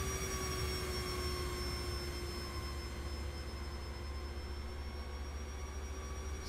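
A simulated RC airplane, a Habu jet, makes a low pass in the RealFlight flight simulator, a steady, faint whining jet-engine tone that holds level and hums evenly throughout.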